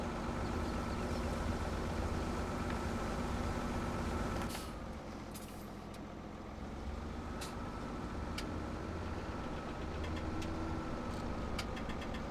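Tractor engine idling in the Farming Simulator 17 video game, a steady low rumble that drops slightly in level partway through, with a few faint clicks over the continuous drone and no talking.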